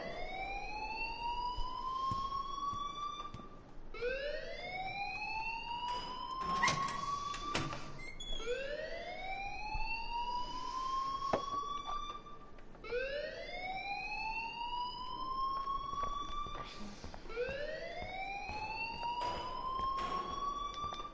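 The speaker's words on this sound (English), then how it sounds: "please turn off that alarm since that's your job" An alarm siren wails in the video game Life is Strange, a loud repeating rising sweep that restarts about every three seconds, with brief clanging hits cutting through the steady cycle.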